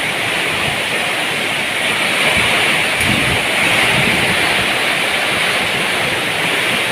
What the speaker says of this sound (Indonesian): Ini hujan angin wilayah Prambon ini.